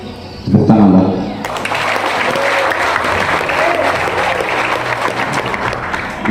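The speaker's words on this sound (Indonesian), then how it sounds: "Tepuk tangan, Mbak." Audience applause at a speech by a Dayak leader, starting after a brief shout and voice, then steady loud clapping that continues to the end.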